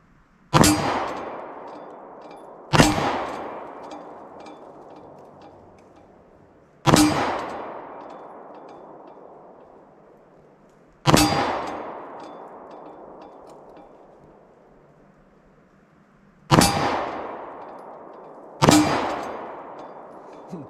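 A Taurus pistol fires 124-grain JHP rounds at steel targets, six sharp shots spaced a few seconds apart. Each crack rings out into a long metallic clang that decays before the next.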